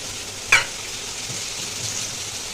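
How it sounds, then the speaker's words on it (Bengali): Cut pieces of fat frying with spices in a pan for masoor dal, being stirred: a soft, constant sizzle with one sharp utensil click near the start. "ভালো করে মশলাটা ভেজে নেব। এর মধ্যে দিয়ে দেবো চর্বিগুলো,"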